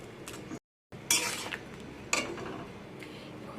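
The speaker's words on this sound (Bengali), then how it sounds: "দিয়ে সব কিছু একসাথে মিশিয়ে নেব।" Vegetarian jackfruit curry being mixed in a pot, a few spoon scrapes and clinks against the vessel over a soft low sizzle, broken by a brief dead-silent gap.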